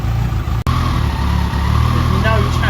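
A Kawasaki ZZR1400 motorcycle engine idles steadily in a workshop during servicing, a close, even low rumble with no revving, holding constant apart from a brief dropout, with people talking over it.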